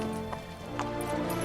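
Horse hooves clop in a fast rhythm in The Witcher 3: Wild Hunt, close and fairly quiet under the game's music, over one and a half seconds.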